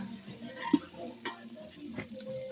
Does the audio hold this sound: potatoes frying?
yes